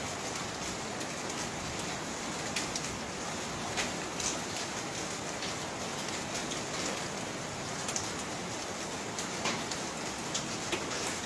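Rain falls steadily during the January 2020 Taal Volcano eruption in the Philippines, a dense even patter on surfaces with occasional sharper drops, continuous and unbroken with no talking.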